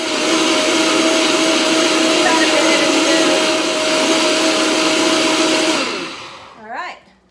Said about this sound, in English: Just go ahead and add your attachment, blend it up.